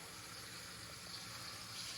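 Tap water runs steadily into a bowl while strawberries are washed and prepared, giving a continuous, even gushing stream with no talk over it.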